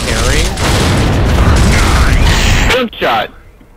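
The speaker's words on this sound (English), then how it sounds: "Gunshot!" Gunfire and heavy explosive booms from the Gears of War video game roar loudly and continuously for nearly three seconds, then cut out abruptly, with a short final burst and players' voices mixed into the game audio.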